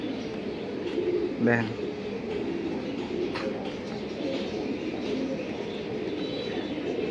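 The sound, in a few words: domestic flying pigeons cooing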